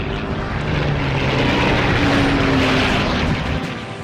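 A steady, loud propeller-plane engine drones in the Iron Wings flight game, a constant roar with a low humming tone that swells slightly mid-flight, with no voices over it.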